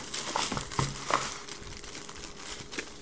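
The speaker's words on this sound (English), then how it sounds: "pull it out of the plastic bag" Soft, close plastic crinkling in short irregular rustles and crackles, with no talking.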